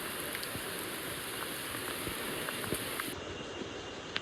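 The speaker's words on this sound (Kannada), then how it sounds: "ಮೇಲೆ ಮಳೆ ಬೀಳ್ತಾ ಇದೆ" Rain falls steadily overhead in the Agumbe rainforest of South India, making a dense, even hiss with scattered drop taps. It stays constant throughout, with no voices.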